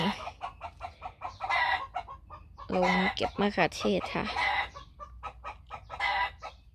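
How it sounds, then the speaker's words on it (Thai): Laying hens on a rural family farm in Bulgaria cluck repeatedly in short bursts, with a louder rooster-like call in the middle, under and between a woman's speech in Thai. "ที่บ้านเลี้ยงไก่นะคะ ไก่ไข่นี่ค่ะ"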